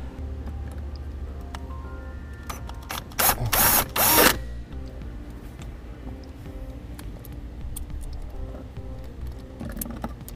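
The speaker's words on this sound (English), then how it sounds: "we'll install our bracket using the included self-tapping screws" A power driver sinks self-tapping screws into a brake controller mounting bracket for a Tekonsha Prodigy P3 in a 2011 Honda Pilot. A short, loud drilling burst rises over a low background hum, with faint mechanical clicks around it.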